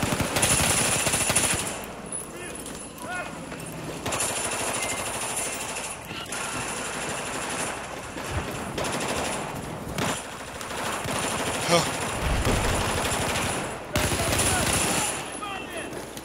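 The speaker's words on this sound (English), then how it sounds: "I spotted hostile machine gun." Sustained bursts of machine gun fire in Battlefield 4, dense and loud, broken by short gaps with other gunfire and game noise layered in, and a voice speaking over it at times.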